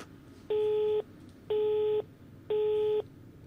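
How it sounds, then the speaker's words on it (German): A telephone busy signal from the video game Rise of Insanity: three evenly spaced half-second electronic tones, clear and alone over faint background hiss. "Besetzt."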